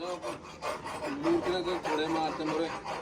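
Steady back-and-forth rasping of a hand file scraping during a repair job, with rhythmic strokes repeating close by and a voice faintly present underneath.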